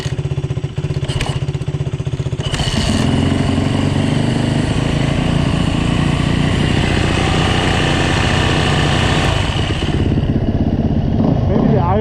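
A Yamaha dirt bike engine, a YZ450F or WR250F, idling outdoors in snow: a loud, steady, close mechanical putter that holds throughout, with a brief blip early on.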